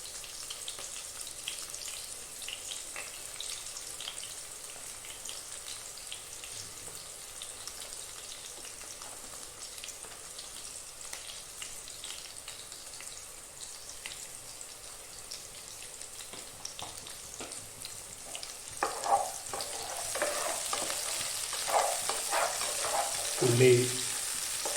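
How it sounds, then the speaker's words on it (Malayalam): Chopped onion frying in a pan hisses quietly and steadily for a long stretch, with faint occasional stirring taps, swelling louder and brighter toward the end. "ഉള്ളി നന്നായി വഴഞ്ഞു വരണം."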